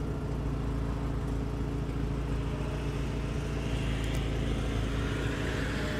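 A 1996 VW Passat B4 with a stock 2.0L engine running on RusEFI idles steadily as it warms up, a low continuous rumble with an even hum, close by and without talk.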